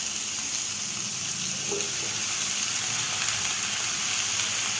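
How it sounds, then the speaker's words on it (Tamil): Tomato, two dried red chillies, ginger, garlic and cashews sautéing in a pan, giving a continuous bright sizzle and frying hiss with faint stirring, close and without talk. "2 வரமிளகாய், இஞ்சி, பூண்டு, முந்திரி பருப்பு எல்லாத்தையும் நல்லா வதக்கிட்டு"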